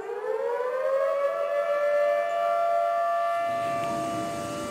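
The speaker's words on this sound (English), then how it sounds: "Sirens warned people downstream as the shutters of the Cheradoni Dam of the Idukki Reservoir were opened" A civil defense siren warns people downstream as dam shutters open at the Idukki Reservoir, wailing steadily, its tone rising then holding in a long sustained note, loud and carrying, with no voices.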